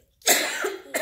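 A single sharp, close cough from a person, followed by the brief start of a second cough.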